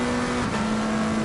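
Onboard a McLaren race car in Assetto Corsa Competizione at Snetterton, the engine drones at a steady high pitch with a slight dip in revs mid-way, loud and constant.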